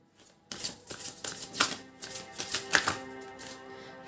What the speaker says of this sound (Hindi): दोबारा शफल करेंगे।